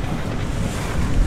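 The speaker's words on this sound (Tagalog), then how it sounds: "Sobrang lakas ng hangin." A strong wind blows at the seashore during a crab hunt, roaring as a dense, loud rush that buffets the microphone, with surf churning underneath and no voices.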